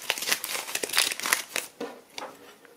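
A 20 euro banknote crumpled and folded by hand, giving close crisp crinkling bursts that thin into softer rustles and creases toward the end.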